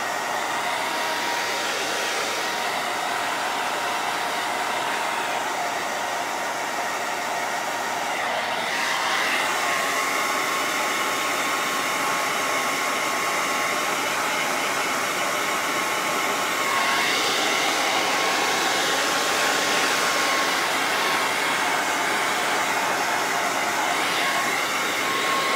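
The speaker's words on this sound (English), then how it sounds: "I'm gonna blow dry to get that dry." A hair dryer blows steadily on stencil paint over a stove top cover noodle board, a loud, constant whooshing roar that holds for the whole stretch with slight shifts in tone as it moves.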